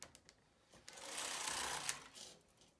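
A knitting machine carriage is pushed across the needle bed from right to left, giving a steady rising-and-falling mechanical whir and clatter of about a second and a half, near and alone after a few light clicks.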